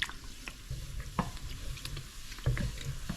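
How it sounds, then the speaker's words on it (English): Dough frying in hot oil with spooned oil bathing the top, a steady close sizzle and crackle that swells around moments of basting and stirring, no talk over it. "I like to keep the hot oil on top, bathing it with the hot oil so that both sides can cook at the same time"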